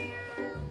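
A single short cat meow, clear and fairly close, rising briefly in the middle, heard alone without talk.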